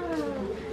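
A cat gives a single short, drawn-out meow, close and fairly loud.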